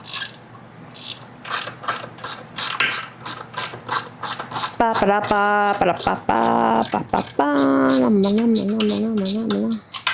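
A ratchet wrench tightens bolts on a Go Power Sports Rascal GT Cruiser mobility scooter, giving a series of rapid close clicking bursts, while a voice sings over the later part.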